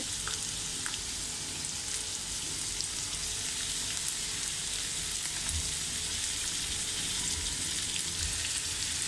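Chopped onion and tomato sauté in a pan for egg bhurji, a continuous even sizzle like light rain with faint occasional stirring, close and without voices.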